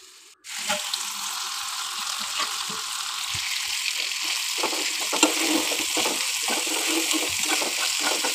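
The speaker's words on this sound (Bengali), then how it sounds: "ওই তেলেই যে আমি মাখিয়ে রেখেছিলাম যে পেঁয়াজ কাঁচামরিচ মশলা দিয়ে, ওইটাই আমি এই তেলের মধ্যে দিয়ে দেব।" Onion, green chilli and spices hit hot oil left from frying hilsa fish, giving a sudden loud sizzle after a brief quiet start, then steady crackling frying with occasional stirring scrapes, close by and without talk.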